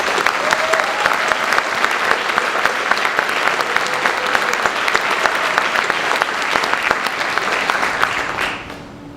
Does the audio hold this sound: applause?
yes